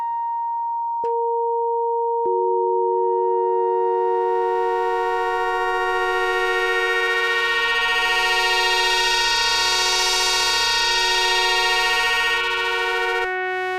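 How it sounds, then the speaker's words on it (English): MicroKorg synthesizer playing a bright FM-like tone: a sustained, buzzy note that enters with sharp clicks, builds into rich, harsh overtones with a slow pulsing wobble, and stops abruptly, played alone without talk. "Sounds like FM, doesn't it?"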